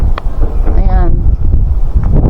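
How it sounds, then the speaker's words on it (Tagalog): Strong outdoor wind buffets the microphone in steady rumbling gusts, loud and close, with a brief tonal whine near the middle. "Ayan lakas ng hangin lakas ng hangin pero hindi malamig"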